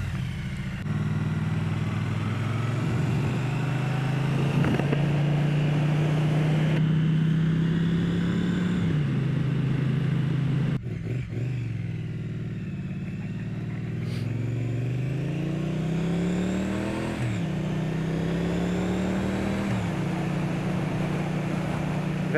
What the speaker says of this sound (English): these twin exhausts have a very satisfying whistle to them